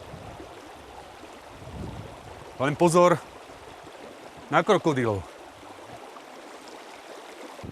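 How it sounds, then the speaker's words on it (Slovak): A flowing stream in the wilderness makes a steady, even rush of water that runs the whole time. Two short spoken phrases break in over it. "Ak narazíte na potok, máte vyhraté."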